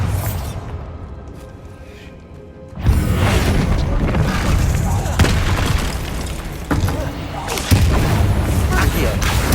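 A Bombarda blast spell in Hogwarts Legacy sets off a loud booming explosion with a long rumbling roar, and a couple of further impacts follow within the sustained blast.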